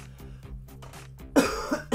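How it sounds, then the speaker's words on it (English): A man coughs several times in quick succession, harsh close bursts near the end of a short stretch, preceded by low muffled background sound. "Ah, I got something for this cough."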